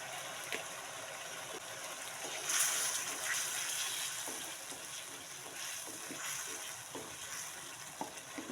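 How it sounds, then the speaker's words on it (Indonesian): Spices and sugar are stir-fried in a pan with a faint, steady sizzle, broken by soft scraping taps of a utensil against the pan. "Pokoknya kita tumis sampai harum ya."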